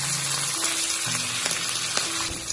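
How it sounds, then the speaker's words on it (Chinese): Loaches fry in a pan with a pinch of salt, giving a loud, steady crackling sizzle throughout with occasional sharper pops and faint clinks. "在煎泥鳅的时候，可以加入一点食盐，既可以防止粘锅"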